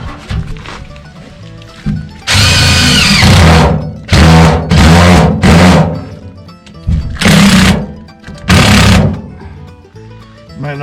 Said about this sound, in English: I'm going to put a couple of screws into the side, right into the rafter